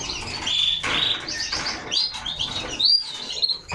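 Canary chicks chirp in a nest, a close, busy chorus of thin, high, overlapping begging tweets and squeaks with soft rustling underneath, no speech.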